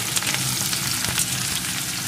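Chopped onion frying with garlic in a hot pan, a steady close sizzle with crackling spatters throughout, no talk over it.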